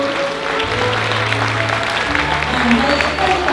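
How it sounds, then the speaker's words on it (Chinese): Wedding guests clap to welcome the host's entrance, a steady wash of applause from a crowded banquet hall, mixed with music and a voice speaking over it. "掌声欢迎"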